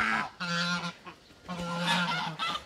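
A pair of geese kept on a French poultry farm honk in loud, harsh bursts: two long honking calls, the second stretching over a second, close by with no talk.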